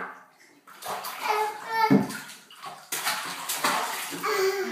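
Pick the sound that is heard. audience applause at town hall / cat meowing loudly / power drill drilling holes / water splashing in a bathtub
water splashing in a bathtub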